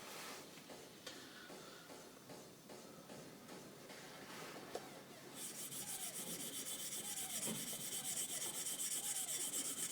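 A rubber-backed abrasive bar is rubbed by hand across a G10 knife handle near the butt, making a steady, close, scratchy rasping that turns brighter and harsher halfway through, with no talking.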